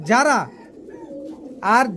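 A club racing pigeon coos twice, close and loud, with a short quiet gap between the two calls.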